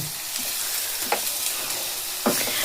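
Fried ground spices stirred in a pan for a Bengali chicken curry, a steady soft sizzle with a few sharper scraping strokes of the spoon, close and alone.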